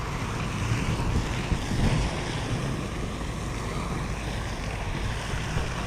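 Strong wind buffets the microphone by open water during a fishing outing, a loud, steady roar with gusting rumble and surf-like wash throughout, no voices.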